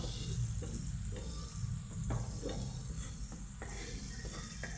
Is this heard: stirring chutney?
yes